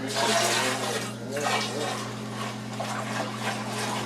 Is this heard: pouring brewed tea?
yes